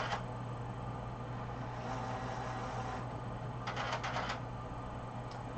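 A Sawgrass SG500 printer restarts while loading new firmware, giving a steady mechanical hum with a few short clicking, rattling bursts of its internal mechanism, moderately faint.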